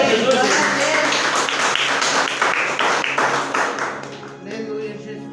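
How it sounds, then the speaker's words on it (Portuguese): A church congregation claps during worship, with rhythmic, fairly close handclaps mixed with voices. The clapping fades toward the end as a voice carries on. "Aplauda Jesus."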